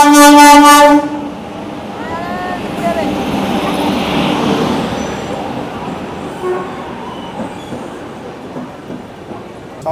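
The 13151 Jammu Tawi Express, travelling from Kolkata toward Kashmir, opens with a loud horn blast, then settles into a steady rumbling roll of the moving coaches.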